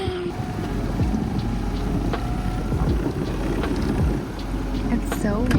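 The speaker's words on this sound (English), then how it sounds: "It's so windy." Steady gusting wind buffets the microphone while sailing to Catalina, a continuous low rumble with faint background voices and activity.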